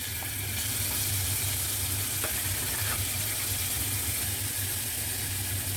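Garlic sizzles in hot oil in a pan at the start of a stir-fried hairy melon dish, a steady, close, even hiss with no talking.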